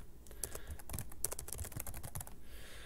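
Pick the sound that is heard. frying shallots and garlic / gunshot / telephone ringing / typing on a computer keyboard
typing on a computer keyboard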